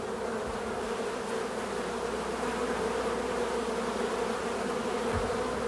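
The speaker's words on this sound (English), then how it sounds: "Look, LeVar, over here you can see a bee feeding one of the larvae." Honeybees buzz steadily inside a hive where workers feed larvae in the brood cells, a dense, continuous hum at close range with no voices.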